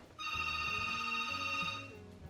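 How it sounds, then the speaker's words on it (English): A telephone rings indoors: a single electronic tone pattern lasting about two seconds, clear and moderately loud over a quiet room. "There's a phone ringing."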